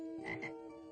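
A single frog croak, a short buzzy call heard alone and fairly close against a quiet background.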